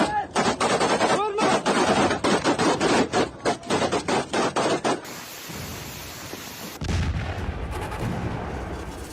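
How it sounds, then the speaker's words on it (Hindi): Gunfire and shelling in the fighting between Azerbaijan and Armenia. Rapid, loud bursts of shots crack in quick succession, followed by a harsh rushing roar and then heavy low rumbling noise. "एक बार फिर से गोली चल रही है, गोले दागे जा रहे हैं।"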